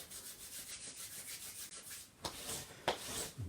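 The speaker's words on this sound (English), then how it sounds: "Rub your hands together, up the backs of your hands," Hands are rubbed together with soft, faint, rhythmic swishing strokes, followed by a couple of slightly louder brushes.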